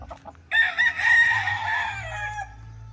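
A Boston Roundhead broodstock chicken crows once up close, loud and drawn out for about two seconds, with a few short clucks just before it.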